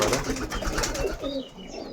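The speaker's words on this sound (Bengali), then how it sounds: "কিন্তু এই যে ছেড়ে দেখাবো আপনাদেরকে আজকে পায়রা" Domestic pigeons cooing close by, soft repeated throaty coos over a busy, noisy background, heard briefly.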